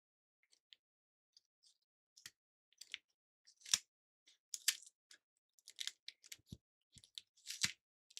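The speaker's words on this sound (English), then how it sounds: "These scissors are dull." Dull scissors cutting, a scatter of short, faint snips and crunches with irregular gaps in a quiet room.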